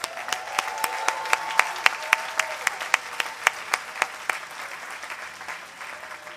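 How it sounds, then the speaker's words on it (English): Audience applause rises at a 2009 USC SPPD graduate commencement ceremony for students and families, a moderately distant wash of clapping with distinct individual claps standing out near the microphone, fading toward the end. "Could we now give a round of applause to all of our students, parents, grandparents, and families?"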